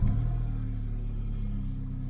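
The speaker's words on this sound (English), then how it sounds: "let's start it up and hear how it sounds from the inside" VW Polo GTI engine heard from inside the cabin, a low rumbling idle right after startup, steady and close, with no talking.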